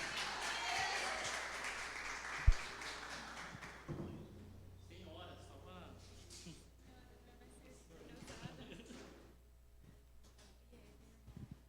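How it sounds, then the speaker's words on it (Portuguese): A burst of applause for a guest on a talk show fills the opening seconds, then fades out as people begin talking and a few light thumps follow. "Dá uma salva de palmas para a Gabi aqui para a gente."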